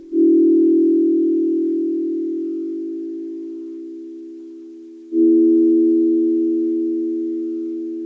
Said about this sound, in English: It sounds like a chord. It's no longer a wobble at this point.